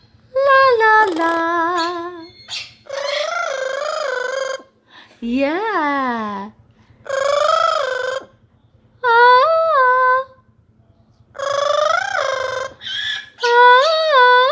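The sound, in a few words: pet parrot vocalizing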